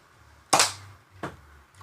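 A Nerf toy blaster fires two sharp, snappy shots about 0.7 seconds apart, each a short burst with a quick airy pop, close to the microphone with no talking.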